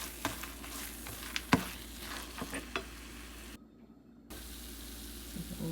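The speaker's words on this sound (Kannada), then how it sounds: "ಸೊ ಈಗ ಹುರಿದಿರೋ ದ್ರಾಕ್ಷಿ ಗೋಡಂಬಿ ಹಾಕಿದ್ದೀನಿ. ಸೊ ಇದನ್ನು ಚೆನ್ನಾಗಿ ಮಿಕ್ಸ್ ಮಾಡ್ಕೊಳ್ಳೋಣ." Sweet pumpkin halwa with fried raisins and cashews is stirred in a pan, producing soft scraping and a few sharper spoon taps over a low sizzle, quiet and near, briefly dropping out, with no voices.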